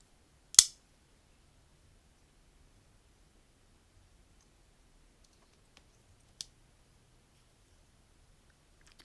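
Small NexTool Mini Sailor S11 Pro keychain multi-tool scissors give two sharp, close clicks several seconds apart in an otherwise quiet room.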